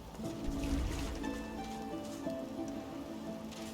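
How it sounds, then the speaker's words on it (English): Magically forced rain falls in the video game Divinity Original Sin 2, a soft, steady patter of drops over a low ambient hum, faint and continuous. "They're forcing it to rain, plus they're creating a massive whirlpool."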